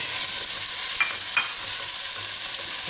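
Chopped brown onion sizzles in olive oil in a pan, a loud, constant hiss, with two light utensil taps partway through and no speech.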